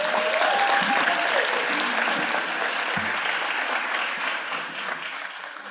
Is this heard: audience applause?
yes